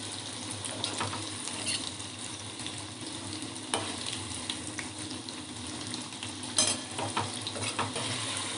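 Crispy corn bhaji frying in hot oil while being flipped, a constant bubbling sizzle with intermittent spatula scrapes and light clinks from the pan.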